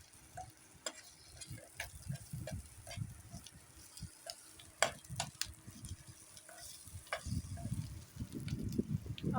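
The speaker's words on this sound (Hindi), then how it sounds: "इसमें हम लहसुन और अदरक वो भी शामिल कर देंगे, साथ में इसे भी भून लेंगे" Onions, garlic and ginger fry in a pan for cabbage kofta, giving a quiet, steady sizzle with soft stirring scrapes and scattered light clicks.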